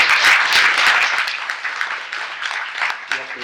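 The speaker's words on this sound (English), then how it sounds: "I want everybody to give these four young people a round of applause" A crowd at a young Democrats gathering in Tucson claps for four young people, a dense burst of applause that thins out over a few seconds, with voices mixed in among the clapping.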